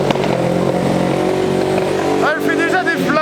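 A Yamaha MT-09 SP motorcycle engine idles and revs, a close throaty exhaust drone with sharp pops as it spits flames, while people talk over it.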